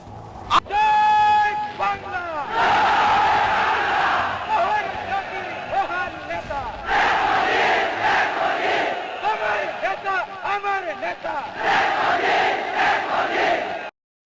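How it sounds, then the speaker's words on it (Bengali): Large crowd at a Bangladeshi political gathering loudly chanting slogans in unison, call-and-response bursts of many voices repeating in a steady rhythm with brief pauses, a lead voice rising over the crowd. "আপনারা জোরে স্লোগান ধরেন"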